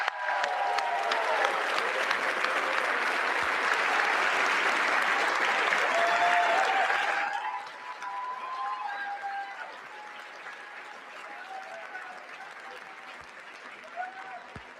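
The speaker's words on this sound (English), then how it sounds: "let's give him a big round of applause, Josh Dawsey of the Wall Street Journal." Audience applause at the White House Correspondents' Dinner, a dense sustained clapping from a large crowd that cuts off abruptly partway through, leaving quieter room sound with faint tones.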